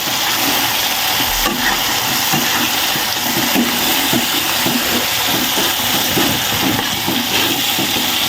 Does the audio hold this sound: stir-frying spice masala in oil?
yes